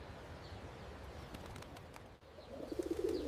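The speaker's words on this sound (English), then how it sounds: "So, people feed birds all the time here, Ben" Pigeons coo softly while an old man feeds them bread outdoors, a low, faint murmur of cooing that swells slightly toward the end, with no talk over it.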